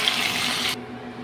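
A small splash of water poured into a cooking pot of pechay, a steady broadband running-water rush that stops abruptly partway through, leaving a quiet low hum.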